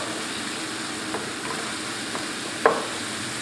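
A crab and mushroom stuffing mixture sizzles steadily in a pan, a close continuous frying hiss with one sharp utensil knock near the end.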